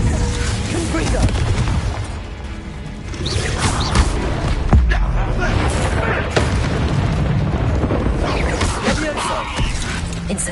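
Confringo fire spell explosions in Hogwarts Legacy burst repeatedly through a dense, loud game battle, booming blasts and crashes layered over constant combat noise and a talking voice.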